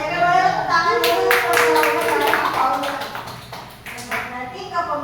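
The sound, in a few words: audience clapping hands at a training session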